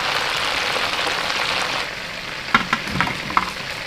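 Chicken pieces for a large batch of korma fry in hot oil, giving a steady close sizzle that thins out midway, with a few sharp pops and spatters near the end.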